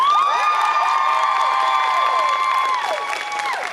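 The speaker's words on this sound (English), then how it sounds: "give her a round of applause" Fan convention panel crowd cheering and clapping steadily at close range, with loud whoops and high shouts layered over continuous applause.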